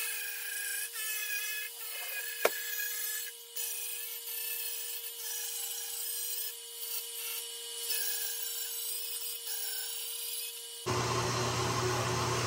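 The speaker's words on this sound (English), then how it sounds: "I could mark this and put it in the bandsaw and let it start cutting" A bandsaw cuts metal side board stock for a 7.3L Ford F250 pickup, giving a steady, loud grinding rasp that holds for several seconds before the tone changes abruptly to a harsher, fuller roar near the end.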